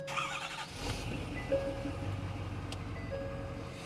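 A diesel Ford F-350 6.7 pickup engine idles with a steady low rumble after a short burst of noise, close by and continuous.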